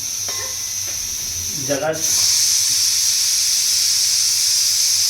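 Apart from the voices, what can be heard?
pressure cooker hissing steam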